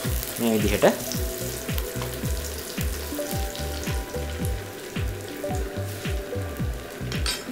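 Curry leaves frying in hot oil in a pan, a loud crackling sizzle with rapid popping bursts at the start that settle into a steady, fizzing hiss; a voice speaks briefly.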